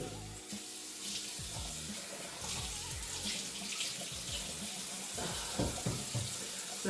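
A tap runs into a sink to soak a face cloth, the water splashing steadily and close. Soft clatters and drips are mixed in.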